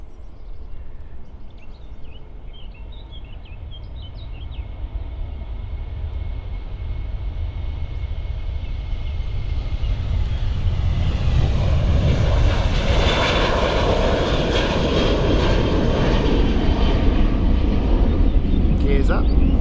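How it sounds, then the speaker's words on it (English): A Ryanair jet bound for Dublin takes off at Stansted Airport, its engine roar building from a distant whine to a loud, sustained rumble, with a voice talking at the start. "We are now going to see the appearance of the Dublin flight from Ryanair."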